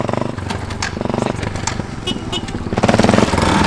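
Motorcycle engine revving during wheelie practice, a close, loud pulsing rasp that dips briefly and then climbs to higher revs near the end.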